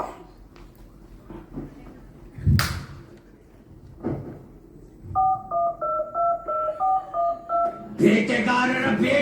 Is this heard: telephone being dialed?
yes